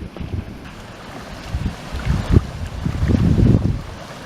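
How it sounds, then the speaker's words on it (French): Strong wind buffets the microphone aboard a boat off the eastern motu of Bora Bora in rainy, blustery weather, with loud, uneven gusts swelling and easing over a steady rushing roar and no voices. "Un temps de chien, de la pluie, du vent."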